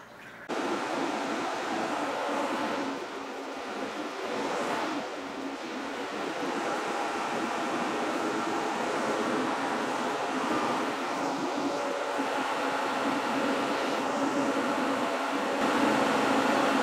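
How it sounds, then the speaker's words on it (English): A kitchen vent fan runs steadily over a large 65-litre electric brewing system as New England IPA wort heats toward a boil, a constant broadband whoosh with no talk. "As you can see, we're coming up to the boil. I got the vent going."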